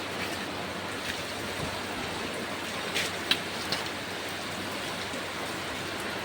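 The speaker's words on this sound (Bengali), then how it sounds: "বৃষ্টি আইছে গাইস" Steady rain falling outdoors, a continuous even hiss with no talk, a few faint brief knocks in the middle.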